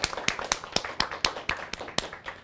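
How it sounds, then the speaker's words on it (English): A small classroom group claps for a student after a short presentation, a few sharp, irregular hand claps in a sparse, uneven rhythm, close and moderately loud with no talking. "Give him a round of applause."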